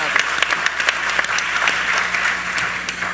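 An audience at a talk on ASEAN gives Ambassador Albert a steady round of applause, with a dense patter of claps at moderate loudness that tapers slightly toward the end.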